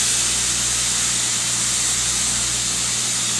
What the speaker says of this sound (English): As long as steam's coming out, you're over pressure